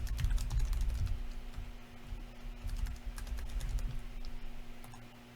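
Typing on a computer keyboard while entering a login username: a steady run of quiet, close key clicks with brief pauses, no talking.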